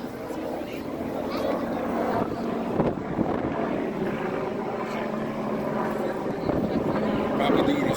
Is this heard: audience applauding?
no